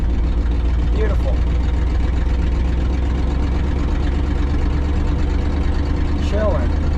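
A 1967 Ford F250 crew cab truck with a 6.7 engine swap runs steadily, a loud, close, continuous low rumble with faint squeaks over it and no talking.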